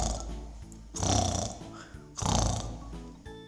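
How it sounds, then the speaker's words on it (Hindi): Loud snoring in a room, in two long rumbling, grunting inhalations with a pause between, close and prominent, with a voice also present. "कौन भर रहा है इतनी जोर से खर्राटे?"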